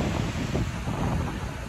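Sea waves rolling onto a beach in Goa, a steady, loud wash of surf mixed with wind buffeting the microphone, continuous for the whole stretch with no voices.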